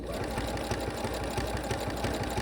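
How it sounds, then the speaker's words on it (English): Sewing machine stitching the bottom row of a knife-pleat roman shade, running alone and close with a steady rapid mechanical chatter of needle strokes over a low motor drone. "and then I can start sewing with the foot"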